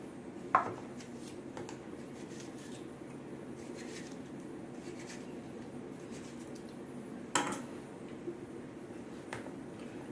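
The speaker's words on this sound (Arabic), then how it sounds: "قطعيها بقى حلقات" A knife slicing a tomato into rings makes two sharp, isolated cuts against a board in a quiet kitchen, spaced several seconds apart, with low room noise between them.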